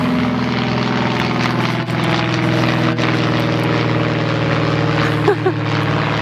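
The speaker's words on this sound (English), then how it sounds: "Oh, a plane!" A propeller airplane passes overhead with a loud, steady droning engine buzz and pulsing harmonic tones that fill the whole stretch, outdoors with no talk.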